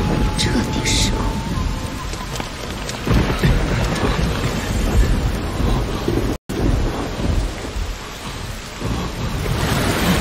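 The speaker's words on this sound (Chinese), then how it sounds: "终于，十年前的一个暴风雨之夜。" A stormy night in an animated series brings heavy, steady rain with deep rolling thunder. The sound is loud and continuous throughout, broken by a momentary silent dropout midway.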